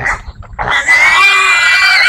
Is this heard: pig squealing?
yes